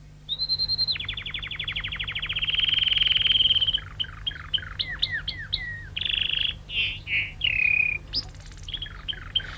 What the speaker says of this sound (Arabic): وهكذا بدأ العندليب يغرد كل صباح للإمبراطور